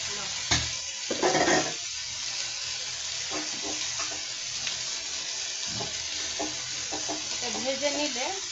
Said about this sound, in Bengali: এখানে আমি এই গাটি কচুগুলা একটু ভেজে নিব।